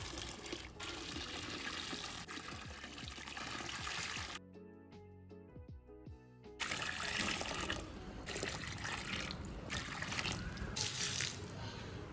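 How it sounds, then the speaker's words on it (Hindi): Water poured onto potted plants during watering, a steady trickling and splashing stream that runs continuously with a short pause in the middle, fairly quiet and close, no voices. "अभी तो मैं लाइक प्लांट्स में पानी दे रहा था"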